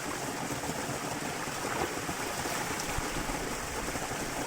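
Waterfall of crystal-cold water pouring steadily, a dense continuous rushing roar close by with no voices.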